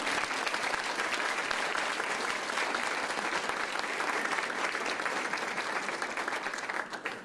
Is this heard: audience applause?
yes